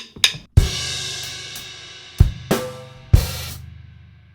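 A drum kit plays a shuffle groove on the hi-hat with a few sharp accented crash hits ringing out, close and clear with no talking.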